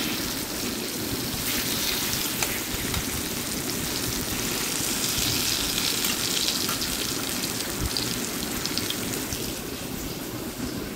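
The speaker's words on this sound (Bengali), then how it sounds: "আলুগুলো একটু উল্টে পাল্টে দিচ্ছি যেন প্রত্যেকটা সাইড ভাজা ভাজা হয়" Potatoes frying in oil in a pan while being turned over, a steady dense sizzle with crackling that runs unbroken throughout at moderate loudness, with no voices.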